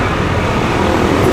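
Dense, loud roadway traffic with jeepneys and other vehicles passing close by, a continuous engine rumble and road noise during student dismissal time.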